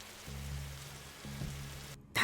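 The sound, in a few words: rain sound in The Darkside Detective video game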